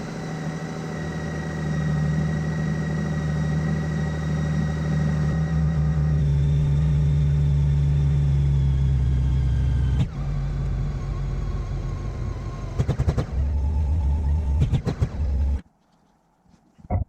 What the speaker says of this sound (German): Gegen Ende der Zeit 2 oder 3 Gasstöße geben.